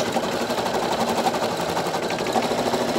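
Brother Innov'is NQ1600E embroidery machine stitching an outline and then a satin stitch, a steady rapid needle clatter with a continuous motor whir, close and unbroken throughout.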